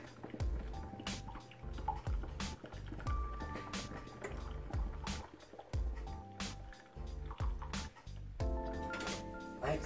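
A Hamilton Beach The Scoop single-serve coffee maker brews with quiet gurgles, drips and liquid trickles that start and stop in short bursts, heard up close.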